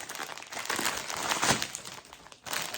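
A plastic-packed kids' dress package is unboxed, the plastic wrapping crinkling and rustling loudly and continuously, close up, with a brief dip before the crackling resumes.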